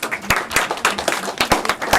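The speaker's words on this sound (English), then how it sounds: "I would request all of you to raise a huge round of applause for this launch" Applause marks a book launch as a modest audience claps in uneven bursts, sharp individual claps standing out nearby over a thinner patter of hands across the two seconds.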